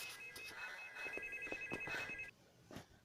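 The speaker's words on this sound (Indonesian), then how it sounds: "telepon rumah pun berdering kembali" A landline telephone rings with a repeated electronic trill, moderately quiet, then cuts off abruptly, followed by a faint knock.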